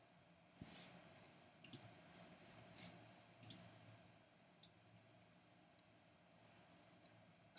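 A computer mouse gives a handful of faint, sharp clicks spaced irregularly against a quiet room, with no talk.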